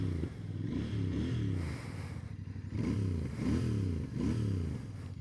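A Royal Enfield Bear 650 with its 650cc parallel-twin engine fires up and idles close by, a deep throbbing rumble that swells in repeated blips of revving.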